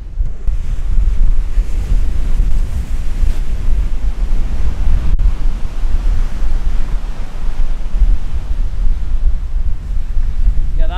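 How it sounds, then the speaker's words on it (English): Strong, powerful wind buffets the microphone on an island golf course, a loud continuous roar and gusting rumble with surf-like wash, steady throughout with no voices. "The wind is very powerful today."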